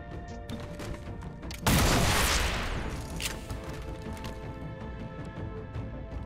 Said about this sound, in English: now I can shoot the mech